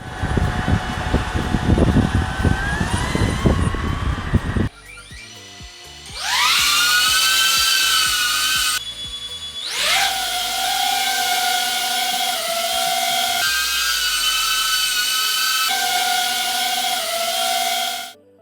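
High-pitched whirring propellers of a DJI Avata 2 FPV drone, whining up and down in pitch as it speeds up and slows across several bursts, loud and close.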